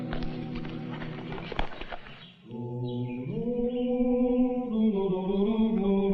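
Hoof beats clatter in an irregular patter for a couple of seconds, then give way to a sustained tonal drone that carries on to the end.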